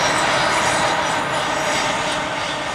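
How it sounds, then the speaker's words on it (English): A train passes near a golf course at Carlyon Bay, a steady, loud broadband rumble and rush that holds throughout without pause, with no voices over it. "We'll just get the train in."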